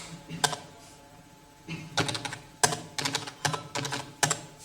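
Computer keyboard typing in WordPad: a single keystroke, a pause, then bursts of quick, close clicks in an uneven rhythm, with no voice.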